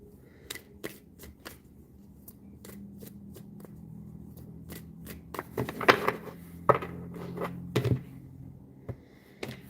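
Tarot cards shuffled by hand close by: bursts of soft riffling and flicking, quiet at first, then denser and louder in the middle before trailing off into scattered taps.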